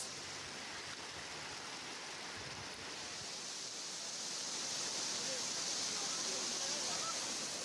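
Fast-flowing floodwater after heavy rain in a residential area of Karjat, Maharashtra, a continuous dense rushing hiss that swells slightly louder toward the end, with no speech.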